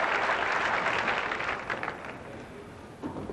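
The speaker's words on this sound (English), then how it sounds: "And the crowd applauding him for the attempt." A crowd at a 1983 professional bowling tournament, the PBA King Louie Open, applauds warmly, a dense burst of clapping that fades gradually over a few seconds.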